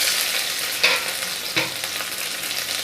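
Sugar melting in hot oil for chickpea curry sizzles steadily while a utensil stirs the pan, with two distinct scraping strokes over the constant frying hiss.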